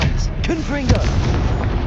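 In the Hogwarts Legacy video game, a Confringo spell blast lands as a loud, booming burst with rumbling low-end crackle. It fills the moment up close while a voice briefly calls out over it.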